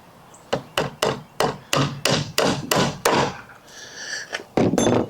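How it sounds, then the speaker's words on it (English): Hammer driving a nail into pallet wood: about nine sharp, evenly spaced woody blows ring out loud and close, followed by a brief scraping pause and one last strike. "Boy, I don't drive nails very often anymore."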